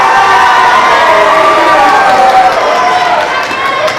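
A school audience applauds and cheers for the senior class team at a challenge program event, loud sustained clapping with shouts and whoops filling the whole stretch close by.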